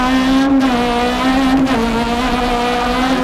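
A 1995 Renault Clio Maxi rally car pulls hard up a climb, its engine holding a steady, loud, buzzing note with a few brief gear-change dips along the way.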